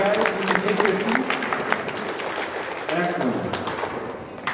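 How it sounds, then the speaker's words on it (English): An audience applauds ACE Award winners at a school event, steady crowd clapping mixed with voices and cheering throughout. "can we please have another round of applause for our ACE Award winners?"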